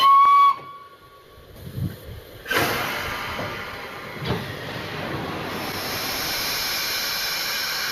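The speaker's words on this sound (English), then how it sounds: "Steam fills Tornado's cylinders." Loud, sustained steam hiss from the Peppercorn-class steam locomotive Tornado at Doncaster Station, rising after a brief whistle note and a pause, then continuing as a steady broad rush with a few louder puffs.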